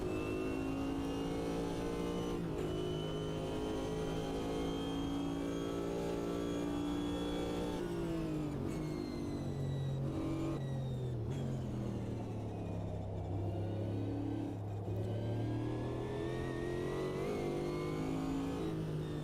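An IMSA GTP Group C race car engine in a racing video game holds a steady loud drone, with revs rising and falling in smooth sweeps and no talk over it.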